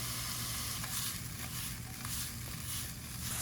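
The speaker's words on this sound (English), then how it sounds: "the mushrooms cooking up" Portobello mushrooms frying in a pan with lemon juice squeezed over them give a steady, close, even sizzle with faint crackles throughout, and no one speaks.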